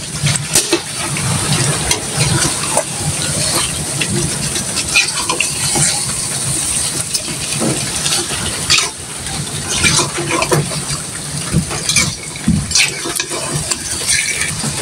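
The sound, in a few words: rain falling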